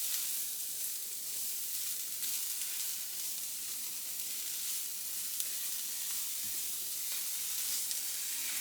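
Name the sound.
food frying in a pan until pink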